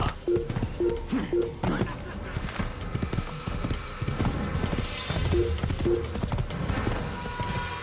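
Horse hooves clip-clop in the Assassin's Creed video game, a quick uneven trot of clear hoof beats in short bursts under game music and ambience, with someone talking at times.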